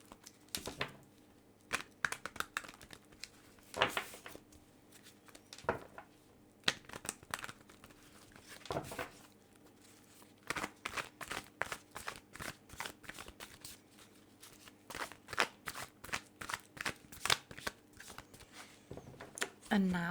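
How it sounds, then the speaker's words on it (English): A tarot card deck is shuffled repeatedly, with quick papery riffles and flicks in irregular bursts, close and fairly quiet, under soft background hum. "I'm going to go ahead and shuffle this deck several times."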